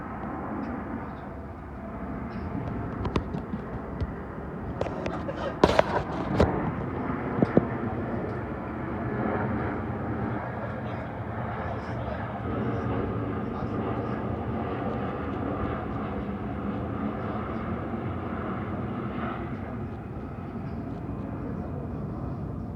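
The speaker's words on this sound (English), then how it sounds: "That's an Airbus A350-1000 from Dubai" An Airbus A350-1000 airliner passes overhead, a broad steady engine roar that holds for over twenty seconds, heard alongside a voice and a brief knock of nearby noise.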